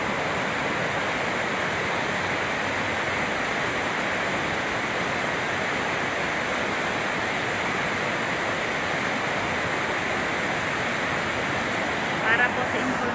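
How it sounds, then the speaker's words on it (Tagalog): Water rushing out of five open spillways at Magat Dam, a continuous, broad roar of heavy flow that stays steady and loud throughout, with no pauses. "Ito na yung tubig na lumalabas sa Magat Dam."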